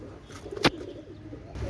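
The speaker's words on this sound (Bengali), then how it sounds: "আপনারা জাস্ট কবুতরগুলো দেখেন" Pakistani fancy pigeons, Cobra Teddy and Kalanka hens, give soft low coos with one sharp short burst midway, close and moderately loud over a faint steady background, no talking.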